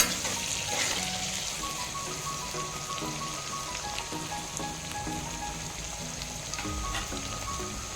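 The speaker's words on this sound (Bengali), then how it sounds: "লঙ্কা ভালো করে ভেজে নেব" Chillies fry in hot oil with a steady, even sizzle and crackle, close and continuous, with no voices.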